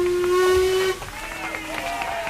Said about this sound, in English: The engine gives a long whistle.